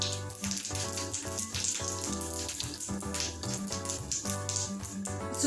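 Cumin seeds sizzle in hot oil for a paneer pulao, a steady bright crackling hiss that runs for the whole stretch beneath fairly loud background music.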